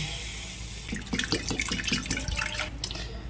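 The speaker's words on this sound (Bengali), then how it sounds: "প্রথমে আমি ভালো করে মুগের ডালটাকে ধুয়ে নেব।" Tap water pours into a bowl to wash 100 grams of mung dal lentils, starting as a steady hiss and then breaking into close splashing and swishing as the lentils are rinsed, with no one speaking.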